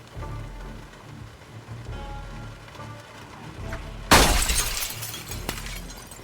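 In the Project Zomboid video game, rain patters steadily against a glass roof. A sudden loud crash with a bright, shattering texture breaks in partway through, and scattered drips and taps follow.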